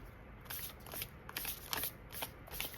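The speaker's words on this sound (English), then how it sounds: "I'll shuffle these for you" Starseed Oracle cards shuffled close by in quick, papery bursts about every half second, steady and rhythmic throughout with no voices.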